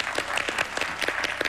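A studio audience at a televised game show breaks into dense, sustained applause, many hands clapping together in an even burst.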